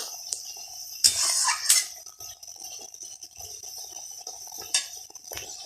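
A spoon stirs soybean malai curry in a pan in a Bengali kitchen, giving sparse metallic clinks and soft scrapes, with a couple of louder knocks against the pan and quiet pauses between strokes.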